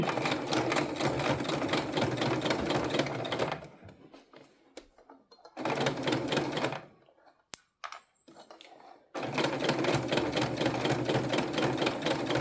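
A sewing machine stitching a tote bag runs in a rapid, steady mechanical chatter, close and fairly loud, stopping twice briefly with faint handling clicks before resuming.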